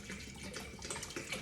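Water runs steadily into the bowl of a Thermomix TM31 kitchen machine, a continuous close splashing pour that fills the whole moment with no talking.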